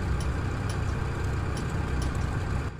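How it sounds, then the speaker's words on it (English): A diesel ground power unit for the Black Square Starship in Microsoft Flight Simulator idles at low RPM, a steady, close, rumbling drone with faint regular exhaust flapper ticks, dropping slightly at the very end. "we can hear the diesel engine start up and then idle"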